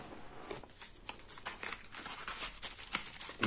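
Paper wrapping crinkles and rustles continuously as a TV remote for a Polsat Box 4K Lite decoder is unwrapped, close and busy with irregular crackles, with no talk.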